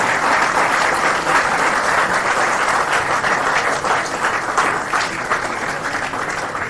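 Sustained audience applause fills a 'Ek Shaam Shaheedon Ke Naam' tribute event for martyrs, with students of ASAP attending; steady dense clapping throughout, loud and continuous with no talk.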